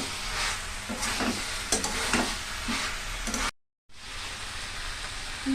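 Jackfruit curry sizzles in a pan while it is stirred and sautéed, with scraping strokes over a steady frying hiss and a brief silent gap partway through.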